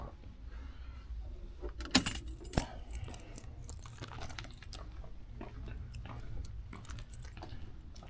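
A brief, faint jingle and clink of keys for a 1966 Cadillac Coupe de Ville nearby, then quiet rustling and small handling noises against a low background hum.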